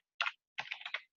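Typing on a computer keyboard: a short burst of a few quick keystrokes, then a brief pause and a second, longer run of clicks, quiet and close.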